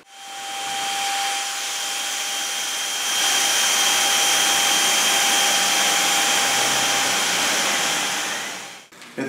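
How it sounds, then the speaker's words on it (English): A Samsung Jet Light VS70 cordless vacuum cleaner runs steadily close by with a high-pitched motor whine and airy whoosh, rising slightly in power partway through before switching off with a click. "Okay, so I've got this cordless vacuum from Samsung."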